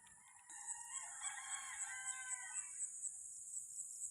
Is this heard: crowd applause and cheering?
no